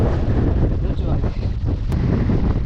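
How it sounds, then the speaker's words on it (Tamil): Strong wind roars across the microphone at a hill viewpoint along a forest gap road, a loud, continuous buffeting rumble that fills the whole moment without letting up. "உண்மையாலுமே காற்று வந்து பார்த்திங்கன்னா பயங்கரமாக அடிக்குதுங்க"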